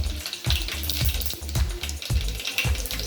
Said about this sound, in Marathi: आता आपण त्याच्यामध्ये टाकणार आहोत पहिल्यांदा मेथी नंतर मोहरी जिरं